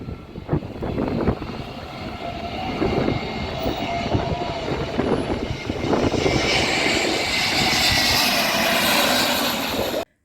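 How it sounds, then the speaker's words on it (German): An airliner comes in low over a crowded Caribbean beach to land, a loud sustained jet roar that swells and grows brighter toward the end, with crowd noise beneath. "bekannte Strand, wo die Flugzeuge ganz nah runterkommen,"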